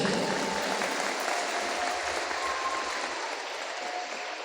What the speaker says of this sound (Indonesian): Tepuk tangan dulu untuk Lajisnu.